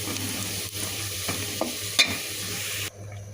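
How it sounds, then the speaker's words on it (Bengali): Onion, garlic and whole cumin hit hot oil as a tempering for bottle gourd dal, a loud close crackling sizzle with a few stirring scrapes, cutting off abruptly near the end, no talking. "এখানে পেঁয়াজ আর রসুন আর একটু আস্ত জিরা দেবো দিয়ে ফোড়নটা দিয়ে দেবো"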